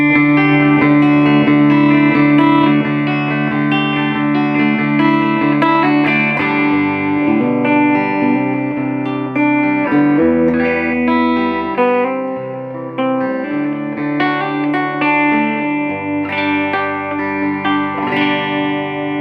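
A Gibson Les Paul Standard electric guitar plays a sustained, layered riff with heavy distortion, sounding thick and saturated throughout, loud and continuous with no speech.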